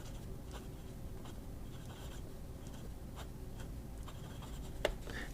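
Faint, close scratching of a fountain pen with a Schmidt medium nib on a Jinhao 100 skeleton, the nib rasping across paper in short irregular strokes over a quiet background hum.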